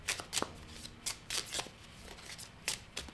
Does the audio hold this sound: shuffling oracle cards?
yes